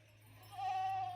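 A single goat bleat in a farm field, a short nasal cry rising in the second half over a low hum, fairly faint and alone.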